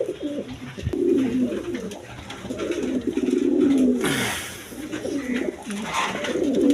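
A pair of Maltese pigeons coo repeatedly up close, their throaty rolling calls rising and falling in overlapping phrases, with some light rustling and background noise between calls.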